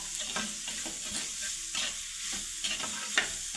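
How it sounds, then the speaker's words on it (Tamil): Small onions sautéing in a pan for a dried-fish curry, with a continuous soft sizzle broken by repeated scraping stirs of a spoon, close and fairly quiet, no voices. "வெங்காயம் வதங்குது"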